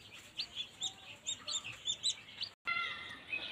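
Desi and Brahma chickens and young chicks cluck and peep near a hatchery incubator, a run of close, high cheeps and soft clucks in quick succession, broken by a brief cut.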